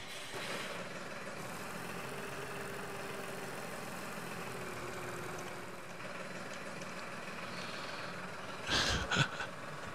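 A Galahorn orchard tractor in Farm Expert 2017 runs with a steady, low engine drone that holds evenly throughout, ending in a short mechanical clatter near the finish.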